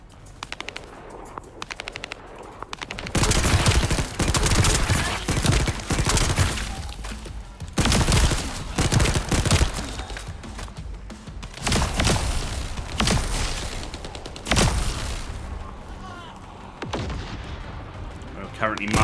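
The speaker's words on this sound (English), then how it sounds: "so we'll switch to the submachine gun" Submachine gun fire in The First Descendant video game, with loud repeated bursts of rapid automatic shots separated by brief pauses, ending in quieter scattered shots.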